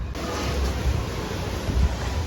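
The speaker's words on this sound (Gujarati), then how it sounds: "બહુ વરસાદ છે મિત્રો પવન એટલો બધો છે" Strong morning wind drives heavy rain in a dense, continuous broadband roar that buffets close to the microphone throughout, with no speech.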